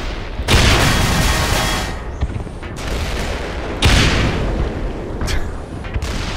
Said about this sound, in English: I probably should rocket launcher him.